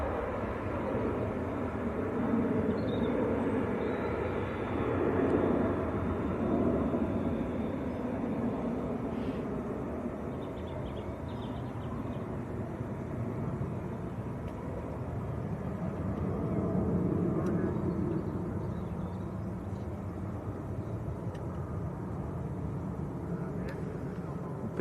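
A KLM airliner taxis past a viewing park at Manchester Airport, its steady broadband engine roar holding loud and continuous throughout with slow swells in level.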